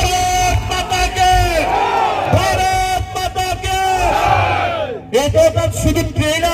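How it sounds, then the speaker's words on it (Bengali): A political rally crowd chanting Bharat Mata in loud, sustained unison shouts that rise and fall, with a brief break before the chant resumes, a large crowd close and loud. "একবার জোরে করতালি দিয়ে সবাই বলুন ভারত মাতাকে"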